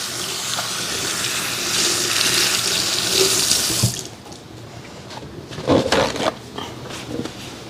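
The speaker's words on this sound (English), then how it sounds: "Let me wash my hands." Hands are washed under a running kitchen tap while a mushroom veggie burger is prepared: a loud, steady gush of water for about four seconds, then quieter splashes and drips as the flow changes.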